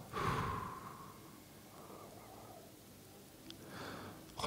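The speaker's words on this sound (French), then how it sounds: "Et on souffle tout doucement pour diffuser le calme en soi." During guided relaxation, a slow, soft breath out carries on for about a second, followed by quieter breathing and another faint breath near the end, close to the mic with no other sound.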